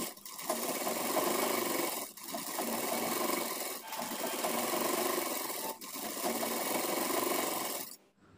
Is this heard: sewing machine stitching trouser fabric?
yes